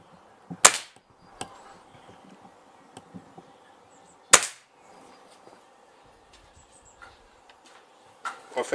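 A Gamo Whisper air rifle fitted with a budget scope, fired from a bench rest in a shed: two sharp, fairly quiet cracks a few seconds apart over faint outdoor background noise.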